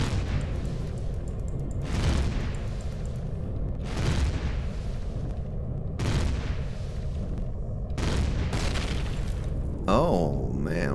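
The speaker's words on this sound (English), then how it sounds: "Maybe we just destroyed the generator, is what that was." A destroyed generator exploding in Empyrion Galactic Survival: a series of deep booming blasts recurring about every two seconds, with a warbling, sweeping tone at the close.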